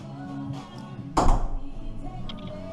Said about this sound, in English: gonna have to put something on the floor to stop that banging, otherwise there's gonna be a hole quite quickly in the plasterboard